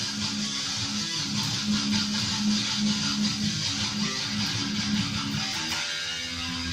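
A dense, heavily distorted electric guitar riff mixes galloping rhythms with ringing open strings, playing loud and continuous for several seconds.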